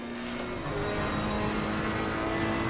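Race car engine in Assetto Corsa Competizione, a GT3 or GT4 car, droning steadily at high revs with a sustained tonal whine and rising pitch, continuous and fairly close, no talk over it.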